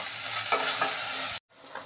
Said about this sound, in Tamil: இஞ்சி பூண்டு பச்சை வாசம் போகிற அளவு ஃப்ரை பண்ணணும்.